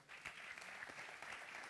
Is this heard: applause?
yes